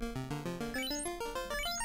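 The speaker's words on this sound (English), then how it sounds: "I bet he's taking poison damage. That's what that noise is." Final Fantasy 1 NES video game poison damage effect, a quick series of stepped chiptune tones rising in pitch, repeated in short pulses at moderate volume with no talk.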